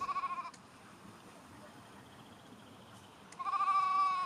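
Sheep bleat in the Icelandic highlands: a wavering bleat at the start and another near the end, with a quiet open-air hush between them.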